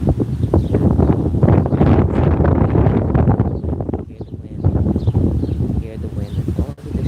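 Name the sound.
wind blowing outdoors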